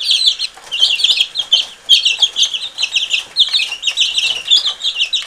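Chicks settling into a homemade brooder, giving a constant stream of high, busy cheeping and peeping from several birds at close range, with no voices.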